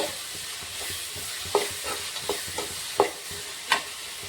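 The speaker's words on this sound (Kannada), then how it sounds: "ಇವಾಗ ಮೆತ್ತಗಾಗುವಂತನ ಫ್ರೈ ಮಾಡ್ಕೊಳ್ಳೋಣ ನೀಟಾಗಿ ಫ್ರೈ ಮಾಡ್ಕೊಳ್ಳೋಣ" Vegetables seasoned with salt and turmeric fry in a pan under a steady sizzle, while a spatula stirs them in regular scraping strokes with several louder knocks against the pan.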